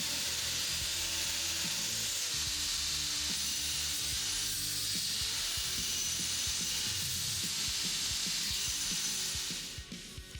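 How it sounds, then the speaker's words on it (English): Belt grinder wheel shaping a radius into a metal desk-leg brace, a dense, harsh grinding hiss that runs loud and unbroken for nearly the whole stretch, then cuts away near the end. "set the radius on the wheel of my belt grinder"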